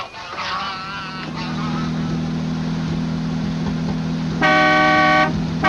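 Car horn honks on a road, a brief toot near the start and a loud sustained blast near the end, over a steady engine hum.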